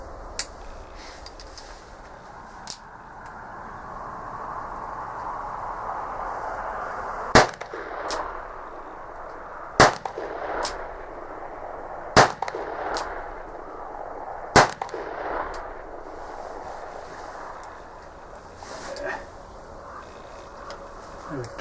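An Uberti 1860 Army cap-and-ball revolver fires repeatedly, five sharp loud shots spaced roughly two to three seconds apart, with fainter pops earlier, over a steady outdoor background hiss and a little talk.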